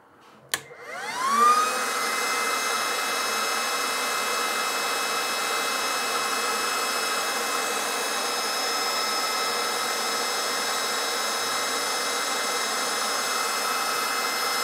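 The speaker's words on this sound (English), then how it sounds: "So I'm going to switch the fan on." A cooling fan on a 12-volt HPA compressor clicks on and spins up within a second to a steady, loud whirring hum with a tonal whine, then holds constant.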